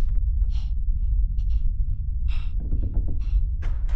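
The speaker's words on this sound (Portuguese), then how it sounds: "tem uma respiração saindo dessa porta vermelha aqui" Breathing sounds from behind a red door in the horror house game 9 Childs Street, several airy gasping breaths spaced through a low rumbling ambient drone, with no talk.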